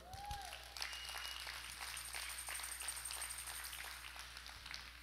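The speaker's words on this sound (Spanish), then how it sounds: "Denle un aplauso al Señor" Church congregation applauding during a Spanish-language sermon, a steady wash of clapping that holds evenly for several seconds at moderate, slightly distant level.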